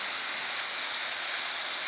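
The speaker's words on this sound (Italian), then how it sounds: "la fontana con lo scroscio dell'acqua" Water from a fountain in Piazza Garibaldi in Gemona del Friuli splashing steadily, a continuous loud rushing hiss close by with no pauses.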